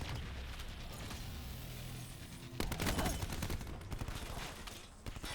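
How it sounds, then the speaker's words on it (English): Gunfire coming from behind in Black Ops 4 multiplayer, a steady wash of distant shooting that swells into louder, closer rapid bursts midway, with faint talk mixed in. "Who's shooting at me from behind?"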